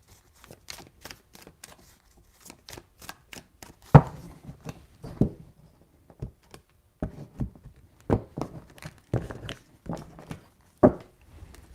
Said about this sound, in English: Three shuffles for Libra.